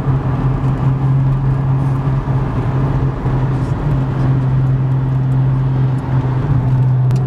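Nissan Skyline R34 and Silvia S14 drift cars rolling up at a car event, a steady close engine drone with a strong low hum, loud and continuous.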